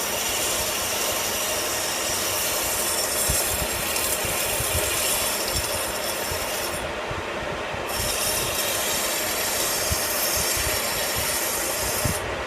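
A 60-grit emery cloth is held against a turned steel bend die spinning on a lathe, making a loud, steady, continuous abrasive whir and rasp that runs without a break and has no voices over it.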